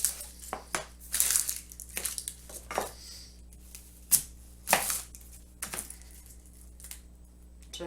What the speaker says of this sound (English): So half of this onion I'm going to chop up.